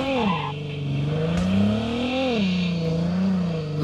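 Engine note of a car driven in the mobile shooter Call of Duty Mobile, a steady droning motor rising and falling in pitch as it revs, loud and close, with no talk over it.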